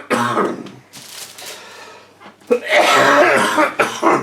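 Close, harsh coughing in two bouts, a short cough first, then a longer, louder, rasping fit after a brief pause.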